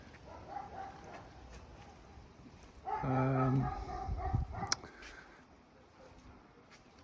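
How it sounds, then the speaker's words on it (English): A big dog barking on a residential street in Tiraspol, Transnistria: a loud burst of deep barks in the middle, with fainter barking before and after over outdoor background noise. "Dog sounds a bit big for my liking"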